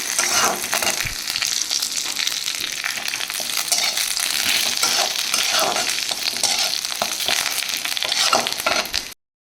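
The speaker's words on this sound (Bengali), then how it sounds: "এখানে এখন নিম পাতা ভাজা হচ্ছে" Neem leaves fry in a pan in a home kitchen, giving a loud, steady sizzle with crackling that runs unbroken for about nine seconds before cutting off.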